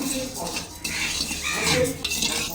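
Rice dry-roasting in a pan while being stirred with a utensil: close, continuous scraping and rustling of grains against the metal, with light clinks of the spoon throughout.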